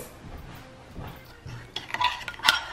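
Spoon scraping and clinking against a bowl while seasoning is mixed into food, soft irregular stirring strokes that build to sharper clinks near the end, close up with no talk.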